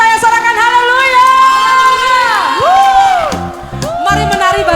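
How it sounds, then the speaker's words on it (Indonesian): A church congregation at a Sunday worship service cheers and shouts hallelujah, a loud crowd of overlapping voices, whoops and shouts rising and falling over several seconds. "Yang percaya sorakan haleluya."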